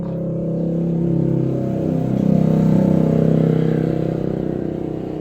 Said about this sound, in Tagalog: Yan ang ingay ng motorsiklo na dumadaan mga palangga.